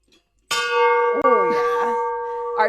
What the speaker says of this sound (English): It's an actual ship's bell, so it's meant to be heard like from a ship